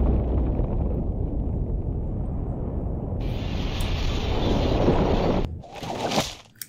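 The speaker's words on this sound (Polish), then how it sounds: "Eksplozja w wojskowej fabryce Flag." A loud, sustained roaring blast from an explosion at a military factory in the video game Destroy All Humans!, rumbling for several seconds, then a sharper crackling burst before fading out.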